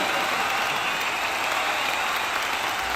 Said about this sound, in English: Wouldn't exactly call those words of encouragement from this crowd.